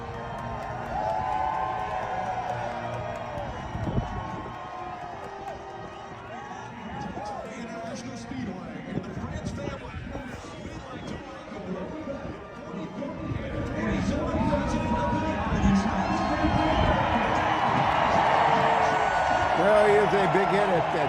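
A large crowd at a Daytona race cheers and roars as a guest is introduced, a dense continuous wash of voices that swells louder through the second half, with talking mixed in.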